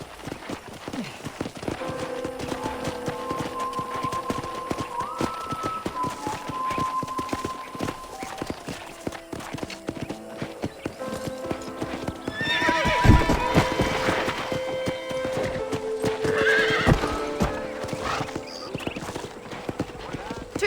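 Steady hoofbeats clop along as a horse is ridden in the video game Red Dead Redemption, with a loud whinny partway through, over background music and a voice talking.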